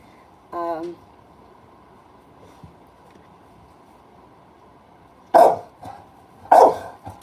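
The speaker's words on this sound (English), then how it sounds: "What's wrong, Dylan? What's he barking at?" A dog barks a few times at a distance: one short bark early on, then two louder, sharper barks close together near the end, with quiet background between.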